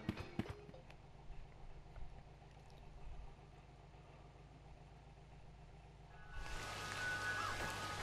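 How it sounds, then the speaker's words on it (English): Rain in the video game Crow Country, a low steady wash under a faint engine-like hum, swelling into a louder, brighter downpour hiss over the last two seconds. "It's raining."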